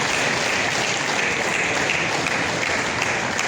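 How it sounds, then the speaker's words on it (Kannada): Steady applause from an audience at a BMTC ceremony where prizes, trophies and cheques are handed to winners and their children, a dense continuous patter of clapping that holds evenly throughout without a break. "ಜೋರ ಚಪ್ಪಾಳೆ ಬರಲಿ"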